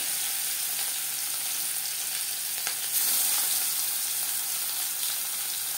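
Salted, turmeric-coated silver carp frying in hot mustard oil, a loud, steady sizzle throughout with a brief flare of hissing midway, no voices.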